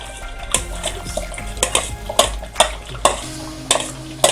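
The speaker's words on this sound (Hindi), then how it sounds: "अब मैं इसके अंदर ये जो ब्राउन की हुई प्याज थी वो ऐड करती हूँ" Browned onions stirred into a simmering Mughlai chicken gravy, with repeated sharp scrapes and knocks of a spoon against the pot over a soft sizzle, close and rhythmic.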